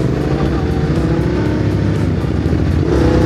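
A Yamaha Tenere 700 or Ducati Desert X adventure motorcycle engine rumbles loudly and steadily close by on a jungle rally trail, holding a dense low drone throughout.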